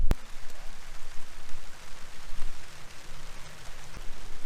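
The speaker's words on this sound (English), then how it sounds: "Now it's starting to rain." Rain beginning to fall outdoors in a vegetable garden among pepper and bean plants, a soft, steady patter of drops with a few sharper taps, nearby and fairly quiet.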